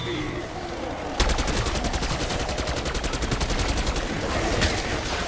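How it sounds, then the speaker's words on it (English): Rapid automatic gunfire from Black Ops 6 Zombies bursts in after a quiet second and keeps rattling in a fast, even stream of loud shots, with faint game sounds underneath. "I'm missing so many shots."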